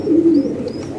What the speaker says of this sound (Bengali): হাই কোয়ালিটি এক পেয়ার কবুতর